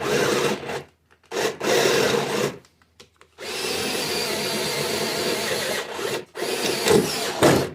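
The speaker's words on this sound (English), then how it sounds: "I drilled the hole, ended up having to file it." Rhythmic rasping strokes of a file working a drilled hole in metal, in several bursts separated by short pauses, close and fairly loud.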